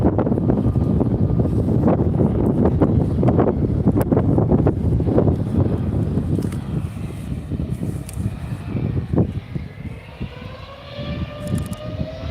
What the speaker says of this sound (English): You'll probably all hear the wind noise now